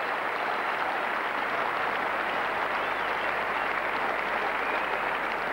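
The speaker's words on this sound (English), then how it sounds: "Everybody here at Lord's stood to applaud him," A standing crowd at Lord's applauds Neil Fairbrother during the 1991 England v West Indies one-day international, a continuous, distant roar of clapping with a steady broadcast hum beneath.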